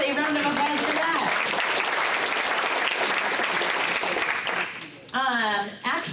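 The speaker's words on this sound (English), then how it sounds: "so please give yourselves a round of applause for that." A large audience at a Wisconsin summit on fair voting maps breaks into a loud, sustained round of applause, a dense roar of clapping that fades out before a voice starts speaking near the end.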